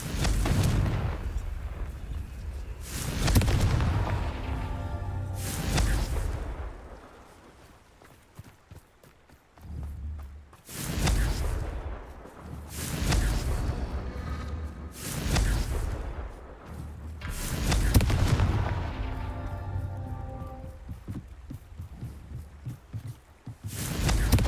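Confringo explosive spells cast in the Hogwarts Legacy video game, heard as a run of about five loud, booming blasts spaced a few seconds apart, each with a rumbling tail, and no speech.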